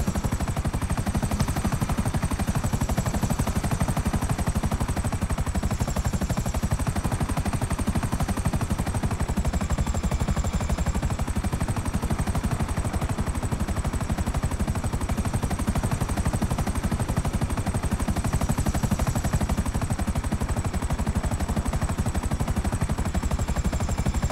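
Constant explosions and rapid gunfire from the video game GTA V, a dense, loud, unbroken barrage of bursts and blasts running the whole length with no pauses.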